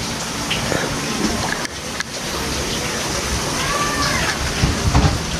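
Steady rain hiss fills the scene, a broad continuous wash with a few sloshing water sounds and faint distant noises, no talking.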